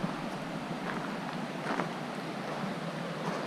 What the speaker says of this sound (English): we have Early Winter Creek. So we'll be listening to this tonight.